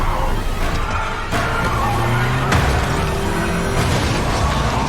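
A car is driven at a monster in a film scene. Mechanical clanks, a skidding screech and booming impacts ring out over a loud, dense vehicle rumble, with no speech.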